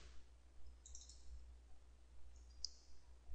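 A computer mouse is double-clicked, two faint, sharp little clicks standing out briefly against a quiet room hum, with no speech.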